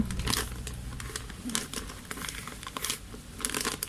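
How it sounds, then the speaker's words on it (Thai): A plastic bag of rice being torn open crinkles and rips up close, with loud uneven bursts of rustling and tearing and no talking. "ฉีกข้าวสารเลยค่ะ"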